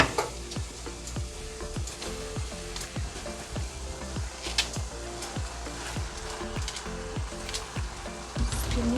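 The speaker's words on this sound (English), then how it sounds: "And then mix it very well with the stew." Spinach being stirred into a simmering Ghanaian kontomire stew, with a steady rhythmic scraping of a spoon against the pot about twice a second over a soft background sizzle.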